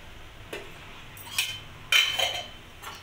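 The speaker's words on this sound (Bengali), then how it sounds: "এটাকে আমি একটু চামচের সাহায্যে এটাকে মিক্সড করে নেব কর্নফ্লাওয়ারটা।" A spoon stirs a thin cornflour and chicken stock paste in a bowl, giving a few light clinks and scrapes against the side, separated by quiet pauses.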